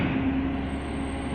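Heavy truck engines rumble nearby on a street in Atlampa, Mexico City, a steady low drone with a faint high whine running through it.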